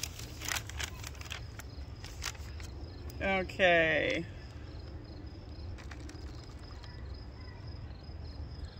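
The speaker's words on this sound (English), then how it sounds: "It's the loudest crickets in existence." Crickets chirp loudly and steadily in a yard, a dense high-pitched trill running throughout, with a brief louder burst of another sound midway and a short spoken word.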